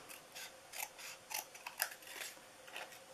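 Scissors snip away paper overhang on a handmade Christmas treat box, a string of about eight quick, crisp cuts spaced irregularly, close by and fairly quiet with no talking.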